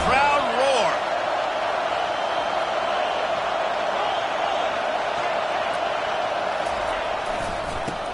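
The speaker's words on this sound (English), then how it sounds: "listen to this crowd roar" A large stadium crowd at an American football game roars in a continuous, dense wash of noise, loud and sustained, with a voice briefly audible over it at the start.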